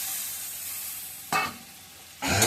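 Fish dropped into a pan of fried spice paste give two loud bursts of sizzling, each flaring sharply and then settling into a steady hiss over faint background frying.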